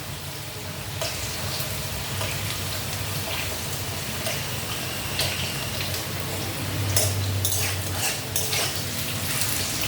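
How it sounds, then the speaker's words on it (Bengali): Potatoes frying in a pan for a drumstick (sajne danta) curry, a continuous close sizzle with occasional scrapes and clinks of a utensil stirring against the pan, steady throughout with no talk. "একটু ভাজা ভাজা হোক আলুটা"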